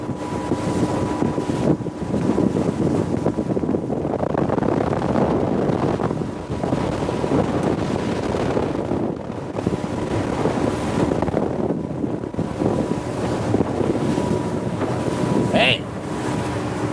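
A Stoner Boatworks 23 center console with a straight V bottom runs steadily across open water, a loud continuous engine and hull rush mixed with heavy wind buffeting on the microphone throughout, with a brief high chirp near the end.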